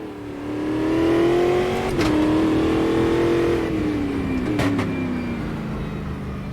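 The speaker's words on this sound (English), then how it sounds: "The sounds around the engine are a lot better in this sim" A Brazilian stock car engine in a racing sim video game drones loudly and steadily, rising in pitch then easing slightly, with a couple of short clunks like gear shifts; no talking.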